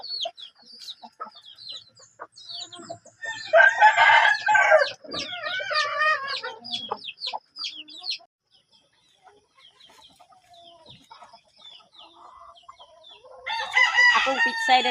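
Hens cluck and chatter nearby, broken by loud rooster crows in two bursts, with quieter farmyard calls between them.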